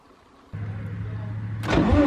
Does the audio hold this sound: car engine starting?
yes